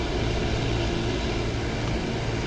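Steady, loud engine drone of an Fw 190 Dora 9 fighter in the DCS World flight simulator, a continuous broadband roar with no change in pitch and no voices.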